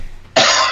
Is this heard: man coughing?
yes